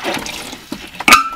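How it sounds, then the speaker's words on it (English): Water from a small container splashes and trickles into a glass jar to rinse it, a few short close pours and splashes ending in a brighter, louder splash. "I could also use this little thing here, and that will also give me some water to rinse this really well"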